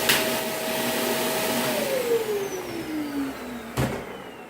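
A Shark Professional vacuum cleaner runs steadily with a broad whooshing roar and a tone that slowly sinks in pitch, followed by a short sharp knock near the end, with no talking.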